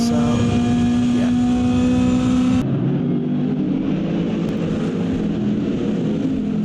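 Race cars in an IGTCS race at Watkins Glen drive through the final corner to complete the first lap. A loud, sustained engine drone holds a steady high tone, then cuts abruptly to a rougher, lower roar of passing cars.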